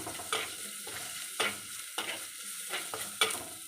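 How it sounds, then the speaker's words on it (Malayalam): Onions with salt and curry leaves sautéing in a pan for Kerala-style sardine curry, with a soft sizzle broken by regular spatula scrapes roughly every half second. "കുറച്ച് കരിവേപ്പിലയും കൂടെ ചേർത്ത് ഇതിനെ നന്നായിട്ടൊന്ന് ഒന്നുകൂടെ വഴറ്റിയെടുക്കാം"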